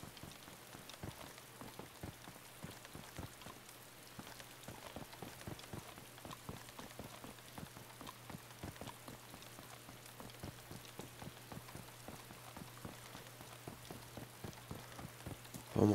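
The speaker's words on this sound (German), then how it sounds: "Warum regnet das denn hier?" Rain falls steadily in the DayZ video game, a dense patter of many drops striking surfaces, even and continuous throughout with no voices.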